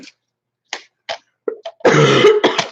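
Several short, sharp coughs in a scattered series, ending in a longer harsh bout of coughing and throat clearing, close and loud.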